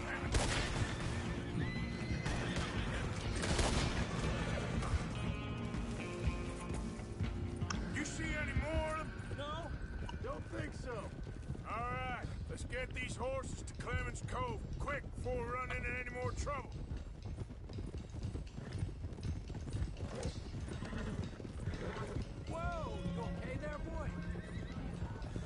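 Horses whinny repeatedly over steady hoofbeats and a constant rushing background, with game-like ambience throughout, in Red Dead Redemption 2.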